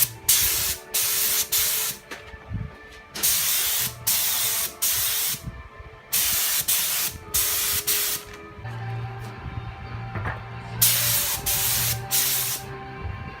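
A spray gun lays sealer onto car bodywork in repeated bursts of bright hissing, each lasting a second or two, separated by short pauses and a faint compressor hum.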